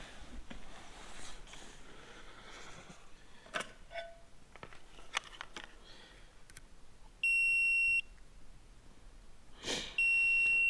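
Two steady electronic beeps from a multimeter continuity tester, one lasting nearly a second and a shorter one near the end, over faint clicks and handling noises in a quiet room.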